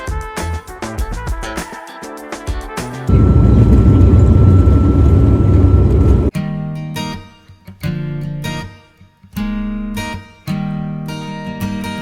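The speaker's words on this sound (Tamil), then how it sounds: "நம்மளோட ஃப்ளைட் வந்து எந்தவித டிலே இல்லாமல் டேக் ஆஃப் ஆயிடுச்சுங்க" An airliner takes off from Chennai, a loud broad roar of engines rushing for a few seconds, set between stretches of music and other cabin sounds.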